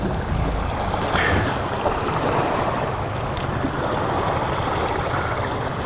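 A loose buoy stuck in Fall Creek, heard as steady rushing, gurgling water with a constant broad wash, close and fairly loud, with a faint knock or two riding over the flow.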